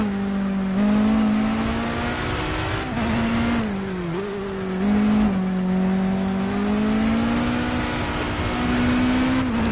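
Race car in the Project CARS racing game accelerating hard around the Jerez track, a sustained loud engine whine climbing through gears with brief dips at each shift.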